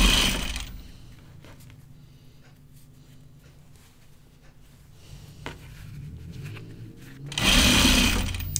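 A sewing machine stitches denim jeans with pre-serged edges, whirring loudly in short bursts at the start and end, with quieter handling and fabric rustle in between.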